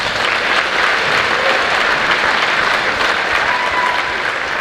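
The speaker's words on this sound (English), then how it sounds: "Let's give them one more round of applause." Crowd in a high school gym at a girls basketball game gives sustained, loud applause for honored teachers, a steady roar of clapping that holds throughout.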